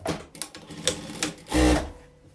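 A sewing machine stitches a fabric slipper pouch in a few short bursts, with a longer, louder run near the end.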